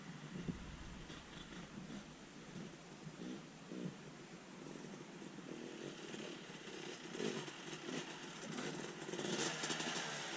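Motocross bike ridden down through a rock garden, the engine note rising and falling steadily and loud for the whole stretch, with revs building toward the end and no talking.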